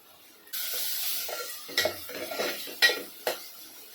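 Tomato goes into a pan of marinated prawn biryani mix and is stirred with a metal spoon, giving close scraping and a few sharp clinks of utensil against the pan, with no talk.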